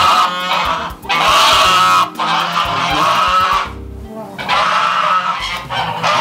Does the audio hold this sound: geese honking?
yes